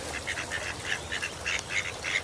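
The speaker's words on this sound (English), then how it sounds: "What's up, ducks?" Several ducks quack in quick repeated bursts at a park pond with lily pads, moderately close and steady across the whole stretch, with no talking over them.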